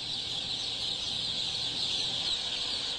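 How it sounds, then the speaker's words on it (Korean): Chicks on a large poultry farm make a dense, continuous high-pitched chorus of peeping that stays steady and moderately loud throughout, with no talk. "병아리들은 여기서 한 달 동안 각각 키워질 예정이다."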